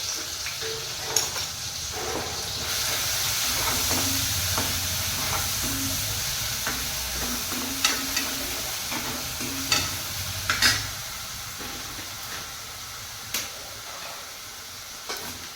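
Chili, garlic and cumin fry in a pan with a steady sizzle, broken by sharp clicks and scrapes of stirring.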